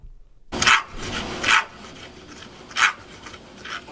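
A dog at the groomer barks in a few sharp, separate yelps with pauses between them, close by, over a low rubbing background.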